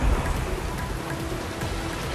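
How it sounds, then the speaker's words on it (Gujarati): Heavy monsoon rain pours steadily during flooding near Willingdon Dam in Jetpur, a dense continuous hiss with no voices. "ધોધમાર વરસાદ વરસી રહ્યો છે"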